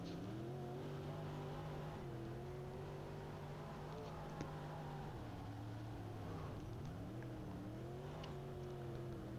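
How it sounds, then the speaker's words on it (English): Race car engine at Bloomsburg holding a steady, loud drone through the corners, its pitch dipping and climbing as the throttle is fed in and eased off, with a brief mid-lap surge and no talk over it. "You can hear how much I'm on the throttle in the corners."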